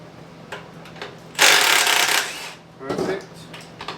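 17 mm socket wrench unbolting a transmission-side motor mount on a project car, close metallic ratcheting and rattling in bursts, with a longer loud grinding stretch and scattered clicks.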